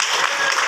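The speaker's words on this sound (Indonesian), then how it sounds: "Tepuk tangan untuk kita semua" Brief burst of audience clapping at a content creator and photography training session, dense and close, lasting well under a second with no talk over it.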